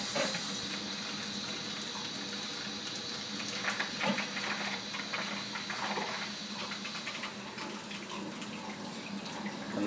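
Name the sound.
wort chiller running after the boil while brewing red ale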